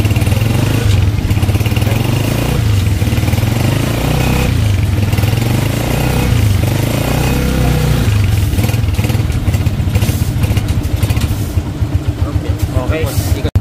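Honda TMX 125 Alpha motorcycle engine running loud and close, its steady idle rising and falling in revs with a rattly clatter, with someone talking over it.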